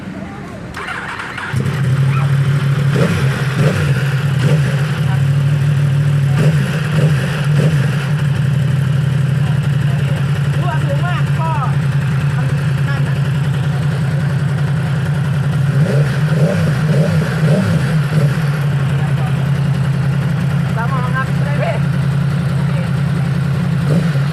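Yamaha R1 2018 sport bike, customized, starts up after a brief pause and settles into a loud, steady idle with a few sharp revs, while people talk nearby.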